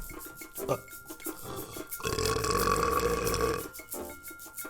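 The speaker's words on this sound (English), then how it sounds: "I'll get that burp out of here." One long, loud burp lasts about two seconds in the middle, close to the microphone, with quieter sounds before and after.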